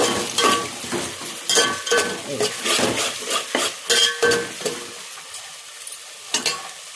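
Onions and whole spices fry for chicken curry as a spoon stirs and scrapes the pan in uneven strokes, over a steady close sizzle.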